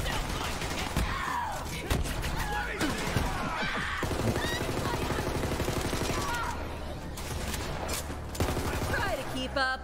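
Gunfire in Borderlands 3: rapid bursts and repeated shots crackle in clusters through the gameplay, mixed with game effects while people talk over the action.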